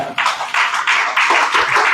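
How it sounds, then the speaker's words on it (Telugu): A church congregation claps loudly in unison during a pastor's sermon, giving quick rhythmic bursts of hand claps close and full for two seconds. "కొట్టు చప్పట్లు గట్టిగా."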